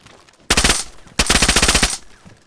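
Two rapid bursts of automatic gunfire in the DayZ video game, a short volley followed by a longer one, loud and close with a brief pause between.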